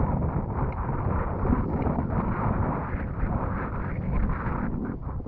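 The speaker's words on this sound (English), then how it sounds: "It's kind of windy" Gusty wind rumbling against the microphone, a steady low roar that swells and eases without a break.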